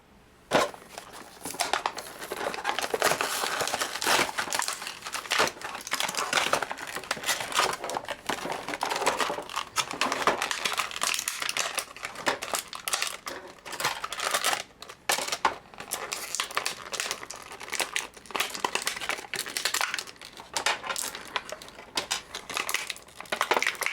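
Packing tape sliced and peeled with a knife while opening a boxed Ultimate Cobra Commander G.I. Joe Retaliation toy, a close run of crackling, crinkling tears and cuts that comes and goes in bursts.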